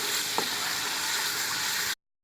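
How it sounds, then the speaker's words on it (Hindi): Ginger and onion frying in oil for a mixed vegetable sabzi, a dense, continuous loud sizzle with one faint clink, cutting off abruptly to silence near the end. "गोल्डन कलर में मैं अदरक को अच्छी तरह से फ्राई कर लूँगी"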